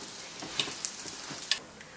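A layered homemade flatbread fries on a hot griddle pan over high heat, giving a steady soft sizzle with a few brief crackling pops scattered through, close and fairly quiet with no voices.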